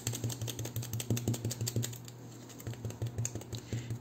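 Crumpled aluminium foil tapped on modelling clay to make a texture, a quick, even run of light patters close up and fairly quiet, over a low steady hum.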